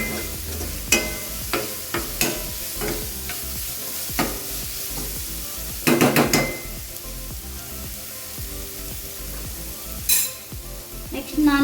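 Spices including chilli powder fry in a pan for a vegetable pasta, a loud close sizzle broken by repeated sharp spoon scrapes and clinks against the pan, with a busier burst of stirring midway.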